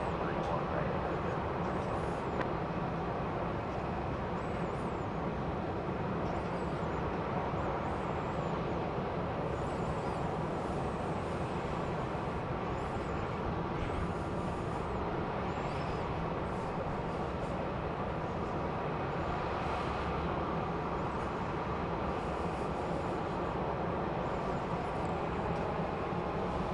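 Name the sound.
airliner taking off at Dallas Love Field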